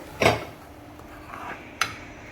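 A utensil stirs a tadka in a pan for soya chaap gravy, with two sharp metallic knocks and a few softer scrapes and taps between them, close and clear.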